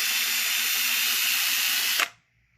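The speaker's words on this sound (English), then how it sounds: "Just take Q-tip and a drill, run down inside." A power drill spins a Q-tip inside a McCulloch Power Mac 6 chainsaw part, giving a loud, steady high whine for about two seconds before it cuts off abruptly into near silence.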